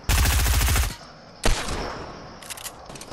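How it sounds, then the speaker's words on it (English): Gunfire in Fortnite: an opening burst of rapid automatic shots, then a single loud crack, a softer tail, and a few quicker shots near the end, all close and loud with no voices. "I just shot the same exact guy"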